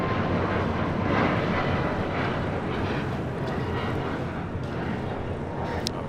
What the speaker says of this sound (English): A380 now short final for 24 left. Lufthansa flight 452 coming in from Munich on the A380 Super.